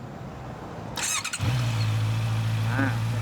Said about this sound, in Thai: เดี๋ยวผมขอฟังเสียงเครื่องยนต์ หน่อยครับ